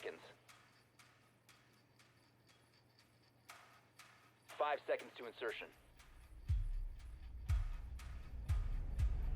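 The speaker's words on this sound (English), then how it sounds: "There's now some music that plays in the final 10 seconds of the prep phase" Rainbow Six Siege prep-phase countdown music ticks steadily, clock-like, then gives way to deep, thudding low pulses in the final seconds, while a brief voice announcement cuts in over the middle.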